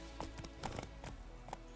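Hoofbeats from the horse Roach galloping in the video game Witcher 3, a quick run of soft, evenly spaced clip-clops over low game ambience, with no talking.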